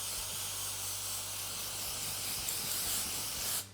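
Hair identifier spray hisses from an aerosol can in one steady, continuous burst close by, with a low hum under it, ending abruptly just before the clip finishes.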